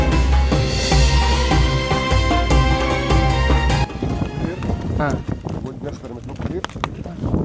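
A horse trots near the Giza pyramids in Egypt while carrying a rider. Its hooves clip-clop in a quick, close rhythm, coming through clearly over people talking and other background sound.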